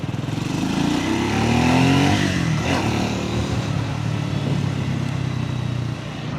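A Triumph Scrambler 400X motorcycle on a test ride gives a steady single-cylinder engine note, rising in pitch under acceleration and then settling to a lower, even drone, close and loud with wind noise and no talk.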